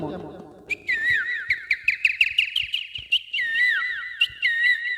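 A person whistles an imitation of a kingfisher's call, a rapid run of bright, trilling chirps with rising and falling pitch, loud and close, between short pauses.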